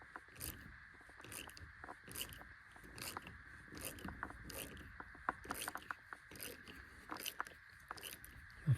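Ratchet working on a roof rack bolt of a Toyota 4Runner TRD after the bolt was heated with a soldering iron: steady, rapid clicking in a regular rhythm, close and fairly loud over a constant background hum.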